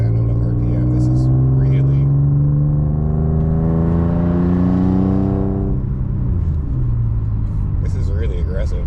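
Infiniti Q50S exhaust fitted with a Vibrant Super Quiet resonator, heard from inside the cabin: a loud, steady droning rumble that rises in pitch as the engine revs, then drops back to a lower hum.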